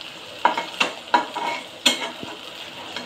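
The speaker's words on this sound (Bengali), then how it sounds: "পেঁয়াজগুলি দেওয়া হয়েছে তেলে।" Onions and garlic paste fry in oil in a pot, a soft sizzle under several sharp stirring scrapes of a spoon against the metal, close and fairly quiet, with no one talking.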